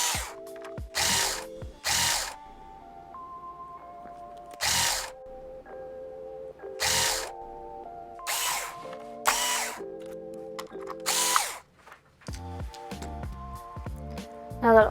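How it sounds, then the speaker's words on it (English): Screws being driven out of the motherboard of an HP Chromebook 14 G6 with a power driver, about nine short whirring bursts spaced a few seconds apart, with faint handling clicks between them, close and fairly loud. "So now you can remove all of the motherboard screws, including the Wi-Fi screw."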